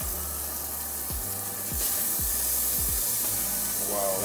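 Seared jerk-spiced pork loin sizzles in a hot pan, a steady bright hiss broken by a few dull thumps and knocks, with no talk over it.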